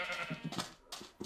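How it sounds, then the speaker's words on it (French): Sheep in the Minecraft video game bleating, a few short wavering bleats in quick succession, close and clear, with a brief pause before a final call. "Attendez les moutons, hein."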